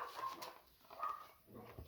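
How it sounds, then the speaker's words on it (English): A neighbouring dog barks a few times at a distance, faint and muffled, with short yips spaced across the moment and no talk. "Oh, next door's dog is barking."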